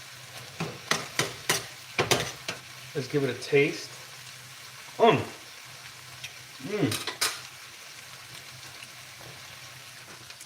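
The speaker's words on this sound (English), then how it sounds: "You can definitely hear when it's coming along once the sizzling starts to get a little higher pitch." Ground turkey frying in a pan for lettuce wraps, with a soft sizzle under sharp spatula clanks and scraping from stirring, and a person talking briefly between stirs.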